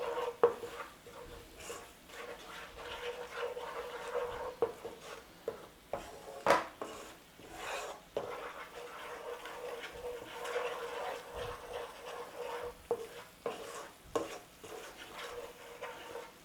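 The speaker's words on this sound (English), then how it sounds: "Bloom your spices in that oil." Soft sizzling of spices blooming in oil in a pan for chicken Moghul curry, with occasional scrapes and clinks of a utensil stirring, close by and fairly quiet.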